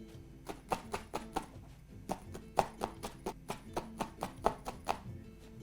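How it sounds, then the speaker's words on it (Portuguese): Felting needles stab repeatedly into synthetic Dracalon stuffing held in the hand, making soft, crisp pokes in an uneven rhythm of about twenty hits, close and quiet. "Vou então passar a picar com estas agulhas"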